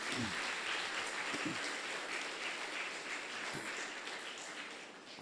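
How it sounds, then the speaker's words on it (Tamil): An audience at a lecture gives sustained applause, a dense, even wash of many hands clapping that holds steady for several seconds before tapering slightly at the end. "அவர்களுக்காக நீங்கள் ஒரு கைதட்டல் கொடுக்கலாம்"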